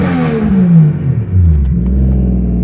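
A BMW E36 3-series, a 318 swapped to a 1JZ six-cylinder engine and in rough condition, revs loudly up and down nearby, its engine note climbing and falling without any talk.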